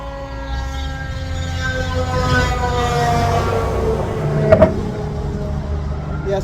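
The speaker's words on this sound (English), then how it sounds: "There's the fire engines." Fire engine sirens passing outside a home kitchen, wailing tones that rise and fall as they sweep past, loud and close with traffic rumble and a couple of sharp clicks.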